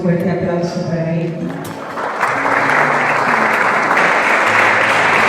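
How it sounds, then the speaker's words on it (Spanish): An audience at a church centenary celebration in Calabozo breaks into loud applause for the archbishop, swelling from fading voices and music into a dense, sustained clapping that fills the rest of the clip. "Un fuerte aplauso para él."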